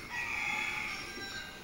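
A rooster in the game Crysis crows once, a drawn-out, moderately distant call over quiet ambient background, no one talking.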